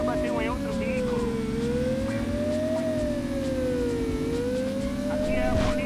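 A police car siren wails and sweeps steadily during a chase in the video game Driver 2, over a continuous engine roar, with a voice faintly audible underneath.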